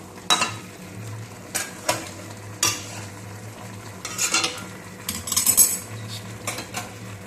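Spoon stirring panch phoron chicken in a metal pan, with clinks and scrapes in short bursts over a low sizzle, close and moderately loud, no talking.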